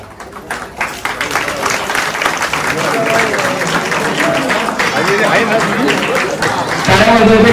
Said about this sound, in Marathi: टाळ्या वाजवायच्या किशाबाईंसाठी सगळ्यांनी